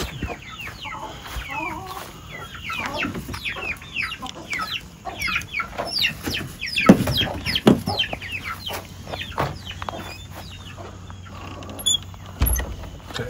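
Chickens clucking inside a coop at roosting time, many overlapping clucks and chirps from a close flock, busy and continuous with a faint low hum underneath.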